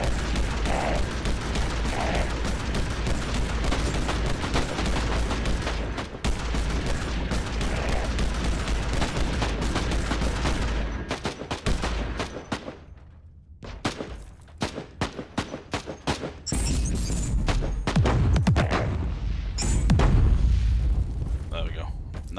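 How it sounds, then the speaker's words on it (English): Plasma barrage heavy weapons fire rolls on continuously in the video game Warhammer 40,000: Inquisitor Martyr, a dense loud roar of shots and blasts that thins into scattered bursts and then swells again, with someone talking over it. "Nice plasma barrage into them guys."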